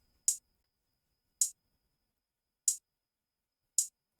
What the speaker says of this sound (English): my hi-hat, right? It sounds like this